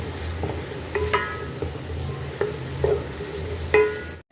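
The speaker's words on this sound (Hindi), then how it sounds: "गोल्डन ब्राउन होने तक हमने प्याज को फ्राई कर लेना है।" Onions frying in cooking oil for chicken haleem sizzle steadily in a pan, with several sharp metallic clinks of a utensil stirring against the pot at irregular intervals, close and without talk.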